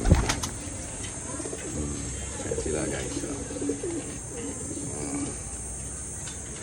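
Homing pigeons kept as flyers coo softly and steadily through the scene, a low murmuring flock close by, while someone talks over them.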